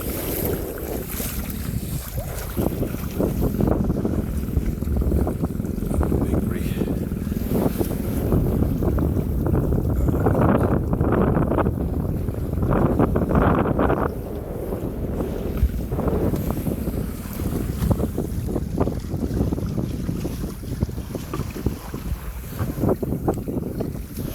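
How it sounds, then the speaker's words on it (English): Strong wind buffets the microphone while a sailing canoe crosses the sea off South Devon between Aveton Gifford and Hope Cove, with loud, continuous gusting roar and wash of waves and hull throughout, and no voices. "I think we're going to lose the wind a little bit."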